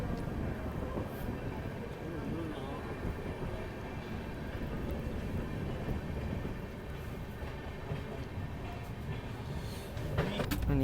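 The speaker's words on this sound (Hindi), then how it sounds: "अब 2 मिनट रुकने के बाद अपने ट्रेन का डिपार्चर हो चुका है" Inside a 3rd AC coach of the Lucknow Mail, the train rolls along with a steady low rumble and rattle throughout. Faint clicks and a bump come near the end, and a voice can be heard faintly at times.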